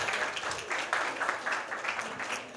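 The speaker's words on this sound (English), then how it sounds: "can I get a round of applause for my daughter?" A room of attendees at a summit applauds a speaker's daughter, a short burst of dense, fairly close clapping that swells and fades over a couple of seconds.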